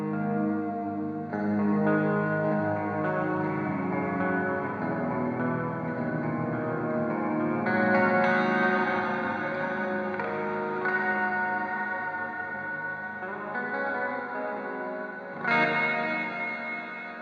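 Guitar played through a modulation effects pedal with its expression control turned fully up, giving a thick, swirling, wobbling chorus-like shimmer with heavy echo and reverb, sustained and loud throughout.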